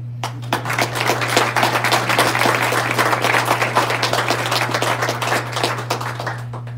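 Meeting audience applauding after a presentation, a sustained wash of many hands clapping at steady strength, over a constant low electrical hum.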